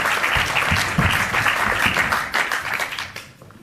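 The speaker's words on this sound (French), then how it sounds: "On applaudit très fort parce que le combat était vraiment d'une belle qualité." A theater audience at a film premiere applauds warmly after a fight scene, a dense, steady wash of clapping that fades slightly toward the end.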